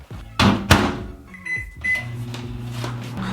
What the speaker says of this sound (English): I'm gonna go ahead and throw this in the microwave for about 1:15.